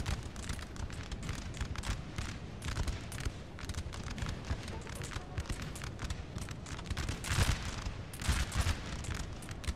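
Massed musket volleys crackle across a Napoleonic battlefield in Napoleon: Total War, a dense, continuous barrage of overlapping gunfire with louder bursts near the end and no speech.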